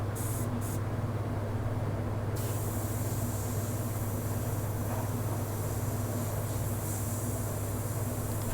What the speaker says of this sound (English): as the airbrush air hits the wattles, we're separating the feathers, and the red paint is getting on the wattle part